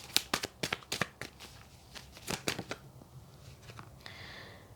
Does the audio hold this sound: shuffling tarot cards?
yes